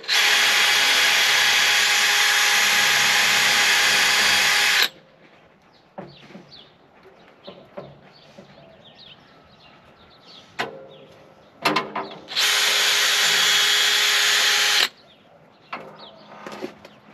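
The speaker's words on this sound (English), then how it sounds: "trying to wire brush it before I take the cable off, is I just want to get the bolt cleaned up" A drill-driven wire brush scrubs a corroded mower battery cable bolt on a Cub Cadet, two loud sustained whirring bursts with quieter scraping and handling noises between them.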